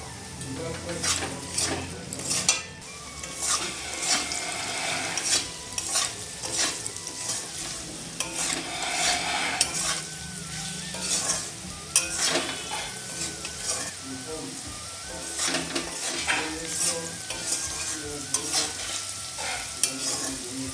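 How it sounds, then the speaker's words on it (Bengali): Chopped potatoes fry in a pan, seasoned with salt and turmeric, under a loud continuous sizzle while a spatula scrapes and stirs them in frequent irregular strokes, close up and without speech. "আলুটা প্রায় ভাজা ভাজা হয়েছে"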